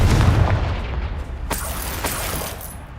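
A Confringo fire spell bursting in the video game Hogwarts Legacy, a loud booming blast with rumbling low end, followed by further sharp impacts and crackling bursts over about three seconds.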